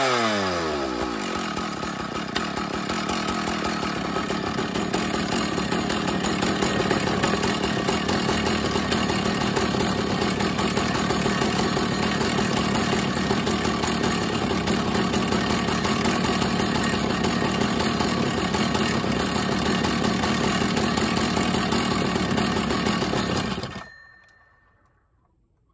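A Husqvarna 1100CD chainsaw fires up on its first start after repair and runs loud and steady at high revs for about 24 seconds, then cuts off abruptly into silence.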